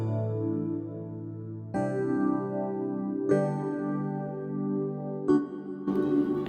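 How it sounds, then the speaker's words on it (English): A Keyscape electric piano on the JD800 Crystal Dream Phase preset plays four sustained chords in an indie folk arrangement, each change marked by a fresh attack with shimmering, phasing overtones, alone without voices. "This new layer, which is an electric piano from Keyscape, the JD800 Crystal Dream Phase preset."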